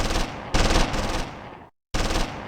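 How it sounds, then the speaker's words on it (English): Loud bursts of explosions and rapid machine-gun fire in the strategy game Close Combat 3, set in a Stalingrad factory battle, with an assembly hall rocked by secondary blasts; dense volleys cut off abruptly, then resume after a short silence. "A series of explosions rocks the assembly hall."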